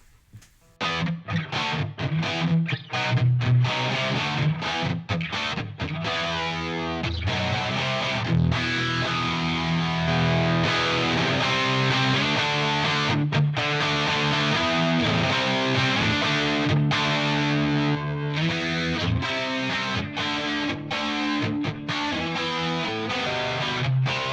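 Distorted electric guitar through a Line 6 Helix's Double Take effect chugs and rings out continuously, thick and doubled with a wide layered sound, loud and close with no talking.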